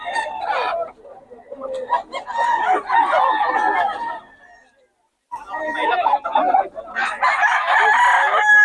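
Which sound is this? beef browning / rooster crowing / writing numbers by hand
rooster crowing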